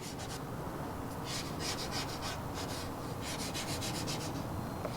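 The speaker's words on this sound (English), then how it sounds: "So we'll get the squeegee." A squeegee rubs steadily across a decal on a Vespa Sprint scooter body, giving a soft, continuous scraping hiss in repeated strokes. The sound is close and fairly quiet.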